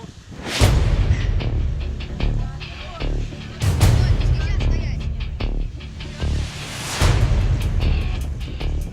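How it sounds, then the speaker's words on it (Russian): Three loud, booming cannon blasts from the frigate Shtandart, each a sharp burst that rolls away, spaced a few seconds apart over a steady background rumble. "Мы с ребятами давно выдвигали идею пострелять из пушек"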